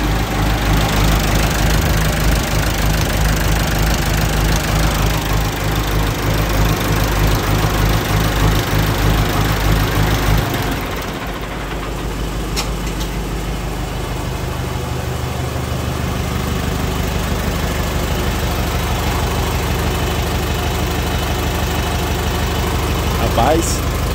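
Two diesel tractor engines, an MWM and a Perkins, idle together loud and close, with a steady knocking throb; one engine's note drops away partway through and the other keeps running.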